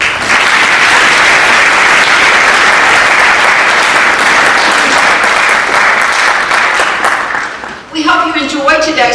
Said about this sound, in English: Please join us in giving all these contributors a round of applause.